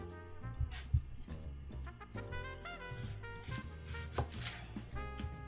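A knife chops onions on a cutting board, with a few sharp, uneven strikes sounding over steady tonal background music.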